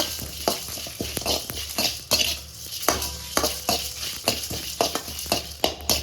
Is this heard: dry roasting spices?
yes